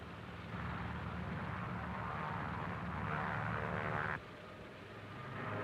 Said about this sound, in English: Navy F-6F mother control planes are catapulted from the carrier's flight deck.